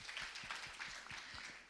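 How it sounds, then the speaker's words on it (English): A conference audience at a women's leadership event claps steadily throughout, a soft, even patter of many hands heard from a distance. "A clap for her, please, in absentia."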